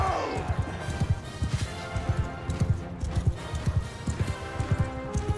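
Galloping horse hooves in Mount & Blade II: Bannerlord, a fast rhythmic clip-clop of heavy low thuds running steadily across the battle scene, close and moderately loud with faint game ambience behind.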